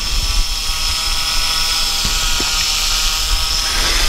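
An XK Aircam X500 GPS quadcopter hovers nearby in a breeze, its rotors giving a steady, unbroken high-pitched whine and buzz at constant loudness throughout.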